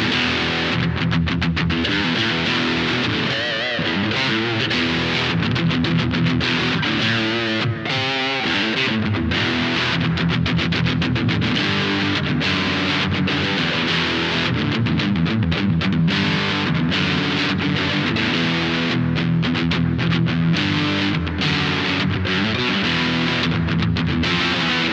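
Electric guitar played through a Valeton distortion pedal with the gain at about two o'clock, a thick, aggressive, sustained overdriven tone with chords and riffs ringing loud and steady throughout, no talking.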